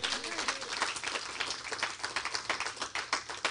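Congregation applauding during a church sermon by a pastor, a dense, steady patter of many hands clapping throughout, moderately close, with faint voices mixed in underneath.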